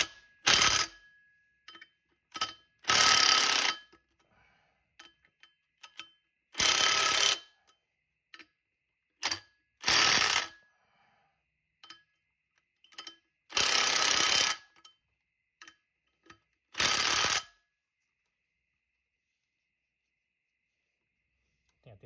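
A 3-stage power impact wrench with an impact socket fires in several loud bursts of hammering, some long and some short, separated by quiet pauses and small clicks, fairly close and with no voice over it.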